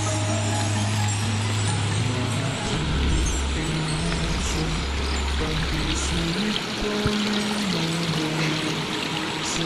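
A river flows steadily past an old embankment at Kampung Naga in Tasikmalaya, a constant loud wash of water with a low rumble running underneath throughout.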